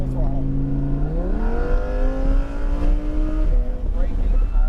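A Lamborghini engine revs hard under full throttle on a racetrack, its pitch climbing steadily and then holding high, with a voice talking over the roar.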